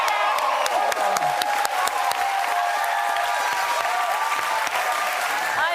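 A studio audience gives a band a loud, sustained round of applause, with dense clapping, a few sharp claps standing out, and occasional cheers and whoops throughout.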